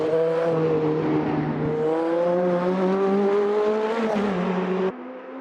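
A race car engine heard from outside in the Automobilista 2 sim racing game, a loud, steady buzzing drone with rising and falling pitch as the revs shift, then cutting abruptly to a quieter tone near the end.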